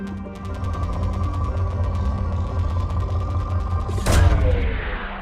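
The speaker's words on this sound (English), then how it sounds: "Probe launched." A probe launches in the Mass Effect 2 video game: a rapid, rhythmic mechanical clicking over a low rumbling hum builds to a sharp, bright whoosh-and-thud launch near the end.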